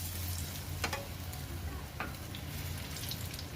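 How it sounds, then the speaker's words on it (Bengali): Puris deep-frying in hot oil, a steady sizzle and bubbling throughout with a few brief clinks, close and fairly quiet, no talk. "একটু লাল লাল করে ভেজে তুলে নিতে হবে"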